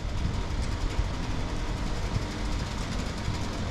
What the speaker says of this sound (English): They're slamming the trains eastbound on track two.